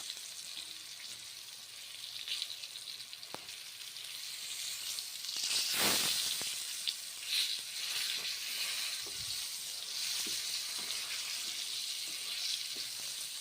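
Pointed gourd (potol) fries in a pan with a steady close sizzle and crackle, swelling into a louder hissing burst midway, then settling back to even frying with light clicks.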